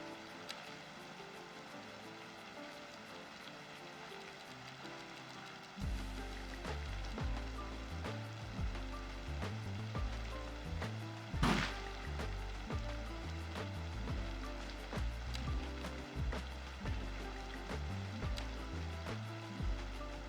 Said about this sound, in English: First time it's raining on Takaoka Island